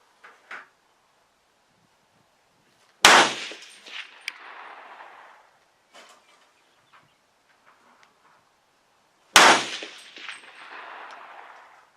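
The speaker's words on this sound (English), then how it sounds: "So let's see if I can bang some steel with this thing." Two rifle shots with GP11 ammunition, fired at a steel target at 200, each a sharp loud crack followed by a ringing metallic tail, spaced about six seconds apart in otherwise quiet surroundings, with faint small clicks between.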